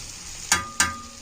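Food being sautéed in a pan, a soft background sizzle with two quick scraping stirs in succession, close by.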